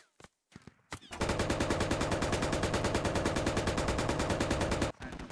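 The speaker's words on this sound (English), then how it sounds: "One MTLB firing in on that." MT-LB armored vehicle gun firing in the video game Squad: after a few scattered opening shots, a long, evenly paced automatic burst runs loud and steady for several seconds before stopping abruptly.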